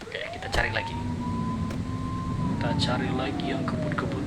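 Police car siren in the video game The Precinct, a single rising and falling wail sweeping up and down across several seconds, with engine rumble beneath and some brief clatter.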